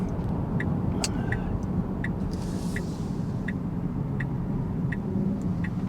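A Tesla car rolls slowly into a parking lot, its low steady road and motor rumble running throughout, with a regular ticking, likely the turn indicator, clicking about twice per second.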